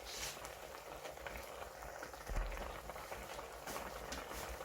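A pot of pork kimchi stew bubbles as it boils, a soft continuous simmering burble heard close and fairly quiet.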